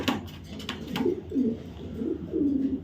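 A large female racing pigeon coos nearby, a few soft rolling low calls repeating in quick succession with slight rustling between.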